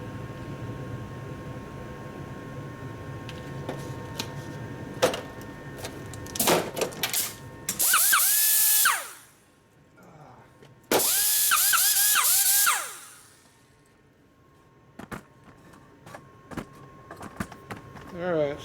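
Two bench grinders switched on in a Harley-Davidson cylinder head machining shop, each a loud sustained whine of a couple of seconds that spins down, with clanks and shop clatter between them and a voice speaking.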